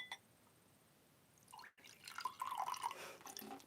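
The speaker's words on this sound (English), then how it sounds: "put it underneath the glass on a flat surface and go ahead and pour" Water is poured into a glass set on a flat surface, a steady trickling and splashing that starts after a short lull and grows louder, with some dripping.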